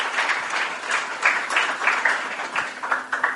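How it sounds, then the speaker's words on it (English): Audience applause for performers after a screening at a live event in Irvington, a short burst of steady clapping from a small crowd, moderately close and fairly even. "let's give a round of applause to J.P. Leck, Elsewhere World,"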